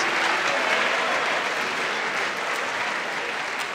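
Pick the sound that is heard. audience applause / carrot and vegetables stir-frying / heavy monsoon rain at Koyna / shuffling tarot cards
audience applause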